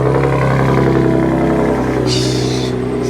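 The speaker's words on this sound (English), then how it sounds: "Let's get a cold start." A roofing company's work truck idles after a cold morning start, a steady low engine rumble running throughout at close range, with a brief higher whine or squeak near the end.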